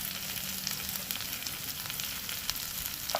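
Shrimp with taro stolons frying in a pan, a steady close sizzle with scattered crackles and pops throughout, no voices.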